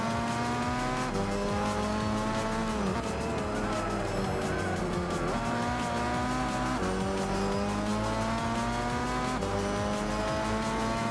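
Race cars lap the Nürburgring in Gran Turismo 6, their engines whining loud and steady, with pitch climbing and dropping through gear changes, plus bursts of tire squeal through the corners. No one speaks.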